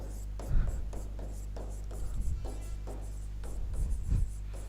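A pen scratches across paper while a Class 10 triangles maths problem is worked out, making short rasping strokes in several separate bursts. They sound close and soft over a steady low hum.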